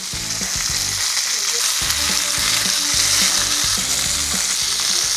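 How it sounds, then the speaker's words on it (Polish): Chicken sizzles and crackles steadily in a hot pan, a continuous loud frying hiss with occasional scraping and clatter, no talking. "Nasze mięso smażamy 6 minut z jednej strony"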